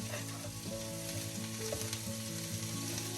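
Cabbage and carrot fry in a pan with a continuous soft sizzle, while a low, steady hum and some tonal background noise sit underneath and a few faint clinks of stirring come through.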